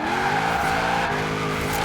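A Chevy Camaro IROC-Z in Forza Horizon 4 skids with a sustained, loud tire squeal over a droning engine, continuous for the whole short stretch.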